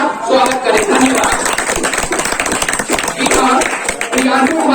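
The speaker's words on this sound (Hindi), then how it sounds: "उनके लिए मैं चाहूंगा आप सभी तालियों के साथ स्वागत करें।" An audience at a school teachers' day and prize distribution ceremony claps loudly and steadily for a student, a dense roar of hands with some voices mixed in.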